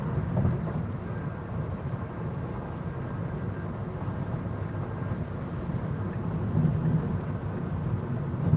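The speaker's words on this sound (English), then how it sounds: "It's raining." Rain on a car driving along a road, a steady broadband hiss and low road rumble heard from inside the cabin, even and continuous with no speech.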